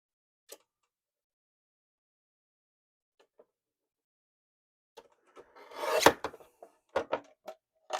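A paper card layer is trimmed down to a matte border for a handmade card made from scraps: a few isolated taps, then a short rasping slide of the cut, followed by several crisp clicks close by.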